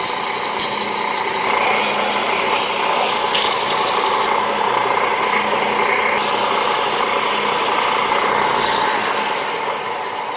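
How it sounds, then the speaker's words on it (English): A belt sander grinds a shaped wooden design to a blade-like tip, giving a loud, steady whirring rasp that runs unbroken throughout, with brief shifts in pitch as the wood is pressed against the belt. "Now we'll use the belt sander and put like a blade on the tip."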